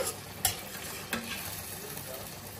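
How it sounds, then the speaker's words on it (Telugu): Green chili chicken curry being stirred in a pan, a steady soft sizzle under two sharp scrapes of a spoon against the pan, with no talk. "చూసారు కదండి, దీన్ని వేసేసుకుని చక్కగా కొంచెంసేపు కలిపేసుకోవాలండి."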